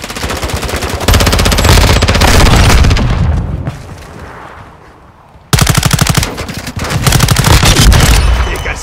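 Rapid automatic gunfire roars in the video game Call of Duty Modern Warfare 2: dense, loud bursts of shots with booming impacts, a short quieter lull with fading echoes, then heavy sustained firing resumes.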